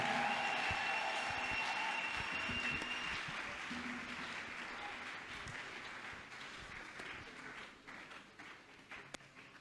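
A church congregation applauds and cheers for the king at the close of a prayer, loud dense clapping with whistles at first, then slowly fading to scattered claps.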